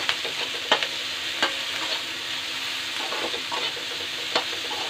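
Pasta frying and being stirred in a pan for Indian-style white sauce pasta, with a steady sizzle broken by several sharp spoon scrapes and clinks against the pan.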